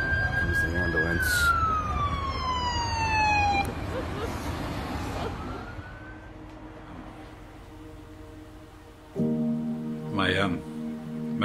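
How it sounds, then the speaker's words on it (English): An ambulance siren sounds at the scene of a road accident, its wailing tone sweeping down over steady traffic noise, with a second, nearer siren burst joining near the end, all amid background voices. "Here's the ambulance."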